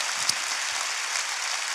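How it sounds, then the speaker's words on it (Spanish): A church congregation applauding, broad sustained clapping heard at a moderate distance, even and continuous throughout. "Dale un fuerte aplauso a la gente que nos ve en casa"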